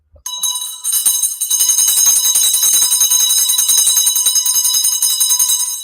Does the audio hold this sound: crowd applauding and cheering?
no